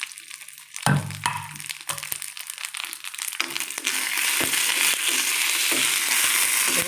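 Mustard seeds and dried chillies hit hot oil with a sudden burst of crackling and popping, then settle into a steady, close sizzle with sharp spits scattered through it.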